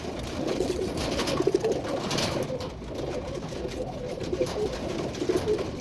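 Pigeons coo nearby in soft, repeated low warbling calls that rise and fall over a steady background rustle, several birds overlapping without any talk.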